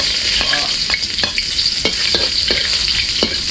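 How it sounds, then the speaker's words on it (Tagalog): Sautéing in a pan for crab cooked in coconut milk, a loud constant sizzle with regular scraping strokes of a spatula against the pan, close up and without speech. "gisa na po tayo"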